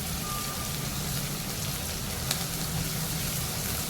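Green chillies fry in oil in a pan on a gas stove for Surat-style green gotalo, making a steady, even sizzle close by with a brief faint click partway through.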